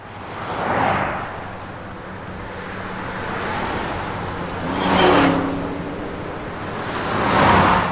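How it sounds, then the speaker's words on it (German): A car driving on just two of its four wheels at over 186 km/h on the runway of Seinäjoki airport, a broad rushing roar that swells as it passes, with wind noise throughout. "während er nur auf zwei von vier Rädern fährt und zwar mit einer Geschwindigkeit von über"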